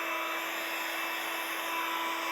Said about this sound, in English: Just one of my favorite heat guns. I'm gonna get it warmed up a little bit